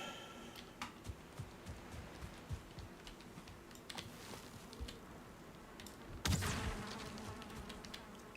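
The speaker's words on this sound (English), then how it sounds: "I hear bees over there too." Bees buzzing in the video game Valheim, a faint, steady insect drone with scattered clicks, followed by a louder rush near the end.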